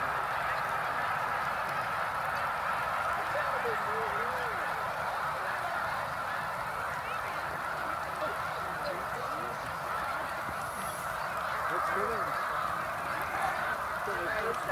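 A huge flock of migrating snow geese at Middle Creek Wildlife Refuge honks continuously, a dense, steady chorus of overlapping calls from many birds at once, with a person speaking faintly underneath.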